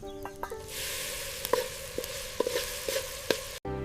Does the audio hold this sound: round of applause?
no